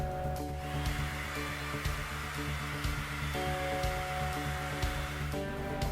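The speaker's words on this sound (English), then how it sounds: "We're going to start blow drying on one edge of the board so we can get that end up first" A handheld blow dryer heating the adhesive under a skateboard's grip tape, a steady close whooshing hum with constant airflow that barely shifts over the seconds, nothing else heard.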